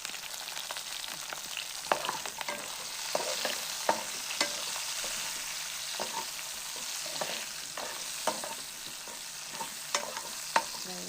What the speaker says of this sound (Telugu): వేసి కట్ చేసి పెట్టుకున్న 2 మిర్చి వేసి వాటిని మంచిగా ఆయిల్లో ఫ్రై చేయాలి